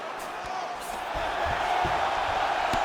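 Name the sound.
crowd cheering in EA Sports UFC 5 video game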